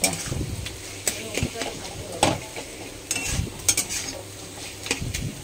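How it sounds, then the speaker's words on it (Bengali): Egg frying with spices in a pan sizzles under scattered metal scrapes and clinks from stirring, with voices partly over it. "ডিমটা দিয়ে এই যে মশলার সাথে ভালো করে ভেজে নিচ্ছি"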